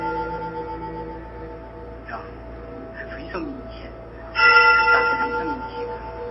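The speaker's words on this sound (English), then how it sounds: "I also hear temple bells, so this could have taken place during a ceremony." Temple bells ring faintly in the background amid ambient noise and distant voices, growing a bit louder toward the end with a brighter chime.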